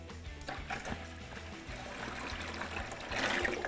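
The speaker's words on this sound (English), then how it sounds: "You can also stir this up, blend this together with just a standard paint stick" Epoxy floor coating part A stirred with a standard paint stick in its container, giving a steady, close, thick liquid sloshing that swells louder toward the end.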